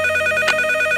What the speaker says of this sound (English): Yay for the phone changing ringing sounds.